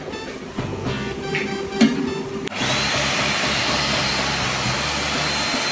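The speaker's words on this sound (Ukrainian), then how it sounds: "Ще те задоволення сушити волосся у сушці для рук." An electric hand dryer in a shared shower and restroom area starts up with a click and then roars as a loud steady blowing whoosh, preceded by quieter room noise, with no talking.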